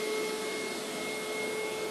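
A Hoover 12-Amp SteamVac SpinScrub carpet cleaner runs steadily on carpet, its motor giving a loud, even whine with a constant high tone and no pauses.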